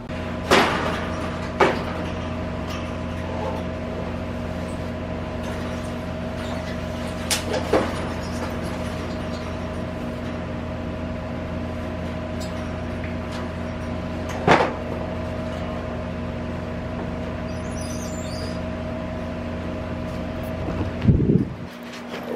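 An air conditioner fan motor hums steadily with a few sharp, isolated squeaks and clicks at irregular intervals, close by.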